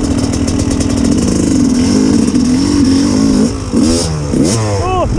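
A 2001 TM 250 two-stroke dirt bike engine revs loudly and steadily up close, pitch wavering as the throttle moves, then dropping into shorter rising and falling blips near the end.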